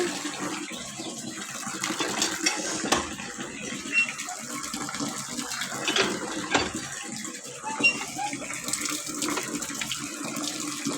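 Tap water runs in a sink after tooth brushing, a steady close splashing flow with small clatters and knocks from handling, no talk.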